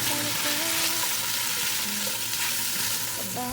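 White onions sizzle and fry in a cooking pot while being stirred, a continuous loud crackle with faint clinks from the utensil, for a Filipino-style tuna fish soup.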